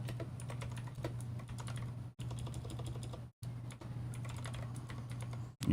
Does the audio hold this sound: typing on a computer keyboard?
yes